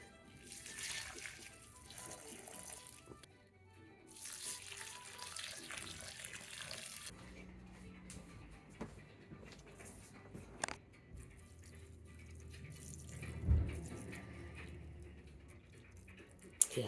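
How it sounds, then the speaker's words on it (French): Water pours from a watering can onto houseplants indoors: a steady splashing stream in a few bursts, with quieter pauses and light handling noise between them. "Je vais arroser les plantes."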